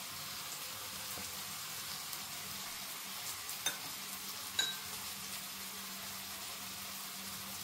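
Spices such as red chilli powder, turmeric and coriander powder mixed into oil with dried red chillies in a pan for Sindhi dal: a steady, fairly faint sizzle and hiss throughout, with a couple of light utensil taps, no talk.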